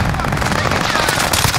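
Rapid automatic gunfire from a battle royale shooter, a dense, loud burst of continuous shots filling the whole moment with no pause.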